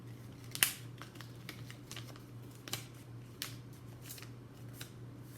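Paper is folded in an art class, with a few sharp crisp creases and soft rustles against a quiet background and a faint steady low hum.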